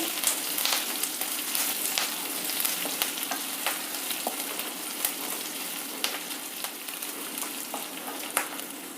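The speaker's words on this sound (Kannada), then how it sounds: "ಒಗ್ಗರಣೆ ಎಲ್ಲ ಫ್ರೈ ಆಗಿದೆ ಈಗ" Curry leaves, black peppercorns and other tempering spices crackle and sizzle in hot oil, a continuous bright frying hiss dotted with sharp pops and spits, close and with no talk.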